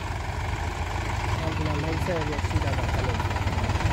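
A three-cylinder 40 hp 405 tractor pulls a seven-foot rotavator, its engine a steady, low, throbbing drone close by, while someone talks over it throughout.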